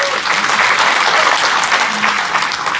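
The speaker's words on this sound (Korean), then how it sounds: "여러분 박수로 환영해 주십시오." A crowd at a Daegu book launch claps warmly to welcome a guest, producing a full, even wash of applause that stays loud and unbroken from start to finish, with no talk on top.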